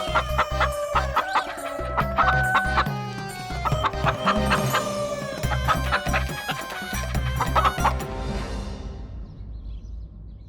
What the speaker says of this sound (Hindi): ये महाराज के साले वासुदेव की मुर्गी है।